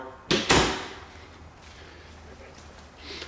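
A pantry door with a newly replaced doorknob is handled in a house, giving two quick close knocks or latch clunks followed by a faint rattle and quiet room tone.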